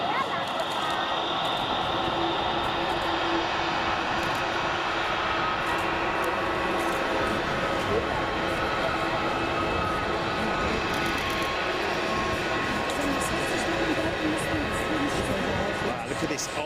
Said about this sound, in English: look at this old Lufthansa 330 in the old livery going out